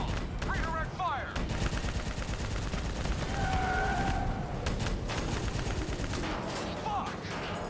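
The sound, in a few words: gunfire in the video game Call of Duty: Black Ops III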